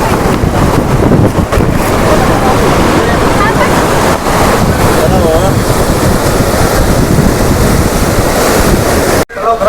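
Sahastrakund waterfall in Nanded district, running full after rains, throws a loud, unbroken roar of rushing water and spray, with wind buffeting the microphone throughout before an abrupt cut near the end.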